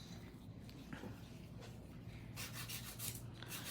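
A 100 grit file rubs across an acrylic nail, making quiet, continuous scratchy strokes up close with no talking.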